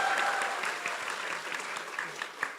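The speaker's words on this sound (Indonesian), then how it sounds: "Boleh tepuk tangan untuk Pak Tom." An audience at a political gathering with Tom Lembong gives faint, distant applause that blends into a soft, continuous patter, with a few sharper individual claps standing out near the end.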